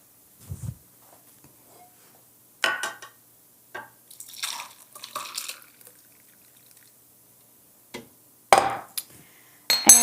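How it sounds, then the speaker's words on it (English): Pickling liquid poured over jalapeños in a glass container, heard as scattered splashes, drips and clinks of glass in short bursts with quiet gaps, close and fairly loud, no talking. "And we're just going to pour this liquid into here."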